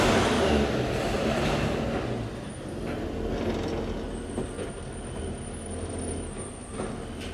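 A 1969 Chevy C10 pickup's engine running nearby, a loud, steady low rumble with broad road-like noise that eases slightly after the first couple of seconds, then holds.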